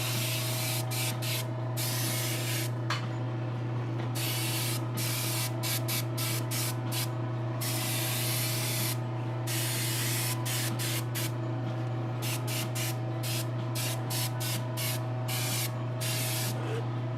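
A satin protective clear coat is sprayed onto a custom-painted figure: a steady close hiss runs over a constant hum from a compressor or booth, with frequent short breaks where the spray stops and restarts.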